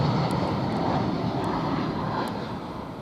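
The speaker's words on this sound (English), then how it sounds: "Now we've got another aircraft coming through here, which is a white one" A white Flyone airliner passes near Luton Airport Parkway station, its steady jet roar loud and close throughout, with no voices over it.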